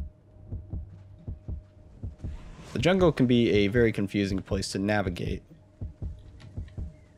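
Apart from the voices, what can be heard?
low-health heartbeat pounding in video game Paragon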